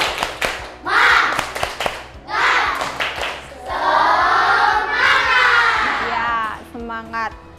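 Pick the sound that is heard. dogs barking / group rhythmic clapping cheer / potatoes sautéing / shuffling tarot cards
group rhythmic clapping cheer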